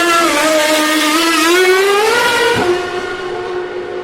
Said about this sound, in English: The slightly anxious whine of the full grid of cars.